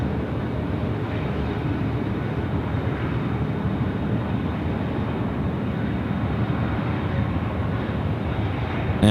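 A Jetstar airliner in the old livery rolls along a taxiway at Sydney Airport, a continuous low engine rumble and hiss staying level and fairly close throughout, with no voices.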